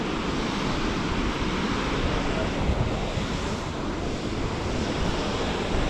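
Waterfall at Yellowstone National Park, a steady, dense roar of rushing water that holds without pause from start to end, with wind buffeting the microphone now and then.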